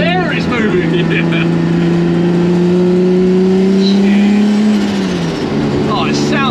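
Nissan Skyline engine swapped into a VW Beetle revs loud and close, its note rising and sliding up before dropping back, with people talking over it.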